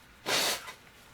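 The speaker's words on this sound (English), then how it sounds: "I gotta blow my nose." A short, breathy nose-blow in a video game scene: one burst of broad hissing air lasting about a quarter second, fairly loud and close, then fading into quiet.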